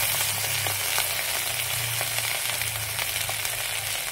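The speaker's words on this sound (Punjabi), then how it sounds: "ਹੁਣ ਆਪਾਂ ਇਹਦੇ ਵਿੱਚ ਪਾ ਦੇਣੇ ਆ ਚੌਲ।" Rice stirred into a pan with plumped raisins over low heat for sweet zarda pulao, giving a steady, continuous frying sizzle with no talking.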